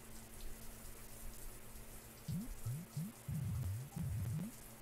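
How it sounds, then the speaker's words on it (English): Shower water running in a horror video game, a steady broadband hiss that continues throughout, with louder splashy bursts and clatters toward the end; no one talks. "let's take a shower"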